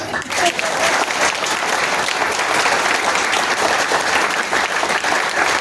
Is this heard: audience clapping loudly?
yes